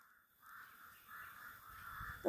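A few drawn-out crow caws, fairly faint and somewhat distant, over a quiet background.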